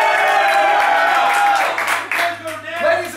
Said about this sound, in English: Give me a cheer if you think I'm right